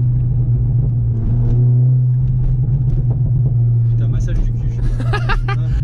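A 384-horsepower Seat Leon Cupra with no exhaust valve idles with a deep, steady exhaust rumble, loud and close, while people talk over it and brief sharper pops follow.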